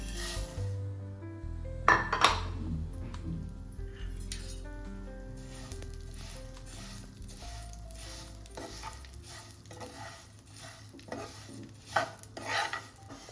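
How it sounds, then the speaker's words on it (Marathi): Vermicelli roasts in ghee and is stirred steadily, giving a soft continuous sizzle under frequent metallic clinks and scrapes of a spoon against the pan, growing busier toward the end. "आता आपण शेवया भाजून घेऊया तुपात."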